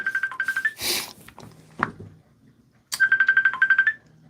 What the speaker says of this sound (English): My phone's ringing, and I'm recording with my phone right now.